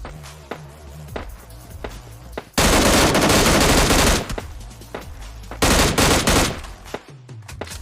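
Automatic gunfire in PUBG Lite during a solo-versus-squad match at East Port: loud sustained bursts of rapid shots, two long volleys separated by a short pause, with scattered single shots and footsteps between.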